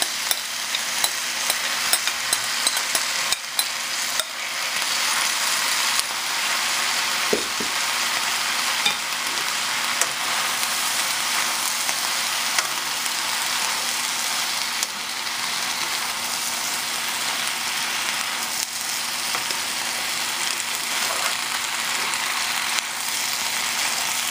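Meat sizzles loudly and steadily in a pan for a fresh vegetable and meat stir fry, a dense continuous frying hiss with faint stirring clicks throughout and no talk.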